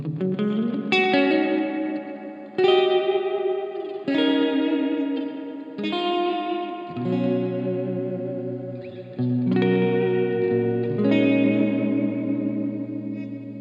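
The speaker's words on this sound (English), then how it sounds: "with the dwell knob, you can control the size of the reverb" Guitar through a Gokko AXE MX300 multi-effects unit with its reverb engaged, a sequence of strummed chords ringing out one after another with a spacious wet tail and a slightly chorused, shimmering sheen, loud and steady.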